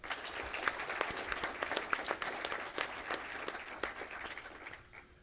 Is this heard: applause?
yes